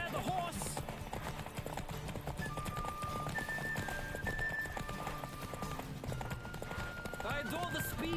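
Continuous clip-clop of a horse at full gallop in The Witcher 3, with brief neighs and a game soundtrack underneath, while someone speaks over it.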